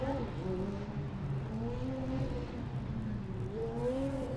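A Formula Student race car from UAS Regensburg runs an autocross course at Formula Student Germany 2012, its engine droning steadily with rising and falling revs, moderately distant and continuous.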